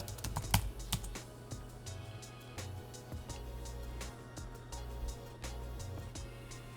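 Fingers tap quickly on a computer keyboard, sharp clustered clicks in an uneven rhythm, close and clear over a low background hum, no one talking.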